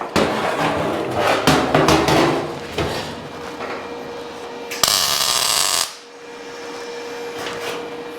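Hammering during work on a Honda Type R-powered Mini supercar build, a series of sharp irregular knocks followed by a loud burst of hissing noise and then a quieter, steady hum.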